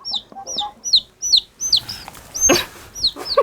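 A chicken chick, newly hatched under a duck on a farm, cheeps loudly and close in a quick series of high, rising peeps with a few fainter background noises.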